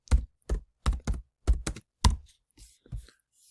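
Keys struck on a computer keyboard while entering a folder name, about ten distinct close thumping taps in short irregular bursts with pauses, ending in a few softer presses.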